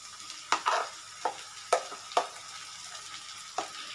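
Minced chicken paste is kneaded by hand into a dough for home-made chicken kebabs, giving several soft, wet squelching presses at uneven intervals, close up and fairly quiet, with no talking.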